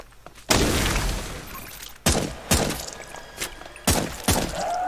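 Gunfire in the side-scrolling shooter Zombotron: a few loud, punchy blasts spaced irregularly, each with a thudding tail and rattling debris, close and clear with no talk over them.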